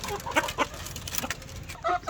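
Several chickens cluck and murmur close by in short, irregular bursts against a soft farmyard background.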